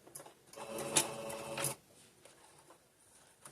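A sewing machine stitches a corner of a bandana face mask and reverses to reinforce it, giving a close, loud rapid mechanical whir for about a second and a half before dropping to quiet room noise.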